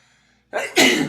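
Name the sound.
sneeze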